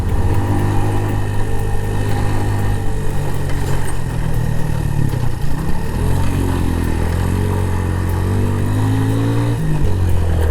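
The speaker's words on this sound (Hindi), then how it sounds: "इस पथरीले रास्ते पे हम दोनों बाइकर्स निकालते हुए लेके जा रहे हैं।" Motorcycle engines labor loudly and steadily along a rocky trail through alpine forest on the way to Panjpeer Rocks and Narar Waterfall, a close, constant mid-pitched drone that rises in pitch near the end, with no talk.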